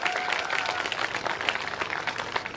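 At an outdoor volleyball tournament, spectators clap for both teams in a brisk, continuous burst of applause from a crowd, moderately distant and fairly quiet.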